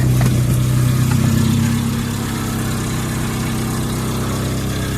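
A VAZ 2101 car engine idles close by, a steady low rumble that is slightly louder in the first two seconds before settling into an even, continuous idle.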